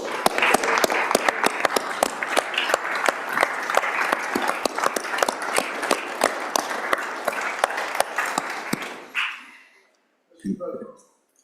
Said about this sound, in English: So a little round of applause for the Tinsley Library.